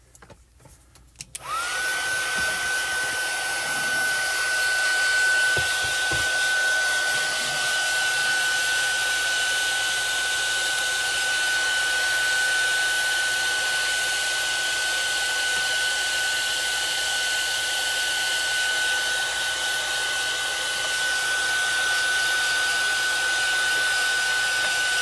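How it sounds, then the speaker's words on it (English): Heat tool blowing across freshly stamped ink on a craft card, a loud steady whine and rush of air that starts abruptly after a brief click and runs unbroken to the end. "So I'm going to run the heat tool across it again one more time."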